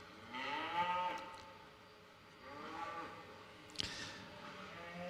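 Cattle at a 4-H and open heifer show give two long, low moos a couple of seconds apart, with a sharp knock between them, heard in a large show barn.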